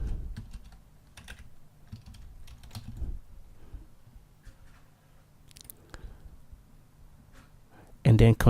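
Keys tapped on a computer keyboard while entering a password during account setup, a light scattered series of clicks at moderate distance with a louder burst at the end.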